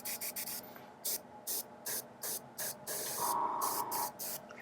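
A timber wolf miniature being spray painted from underneath: a run of short, sharp spray bursts in an uneven rhythm, then one longer sustained hiss and a few more quick puffs, close and fairly quiet.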